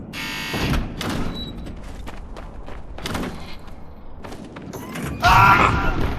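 Doors opening in the video game Wardogs, a series of loud thuds and mechanical slides followed by a harsh buzzing horn near the end, with game sounds throughout.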